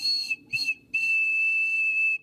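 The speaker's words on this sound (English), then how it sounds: "So I'm gonna plug up this and then I'll blow into it." Ceramic water whistle blown in short bursts: two quick high toots, then one sustained steady whistle lasting over a second, loud and close with no talking.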